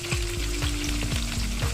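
Mutton pieces for Kashmiri rogan josh frying in a pan, a dense, steady sizzle with faint crackles and stirring scrapes, close and continuous.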